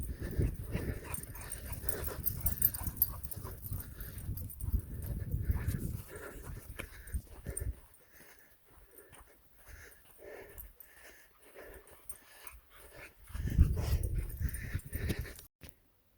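Several dogs on an off-grid homestead in the Arizona high desert whimper and whine softly in short, uneven bursts, moderately close, with quieter stretches between bouts and no talk.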